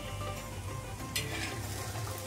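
Spiced eggplant bharit sautéing in a pan with coriander powder, turmeric, salt and coriander leaves, giving a steady close sizzle with a brief scraping stir partway through.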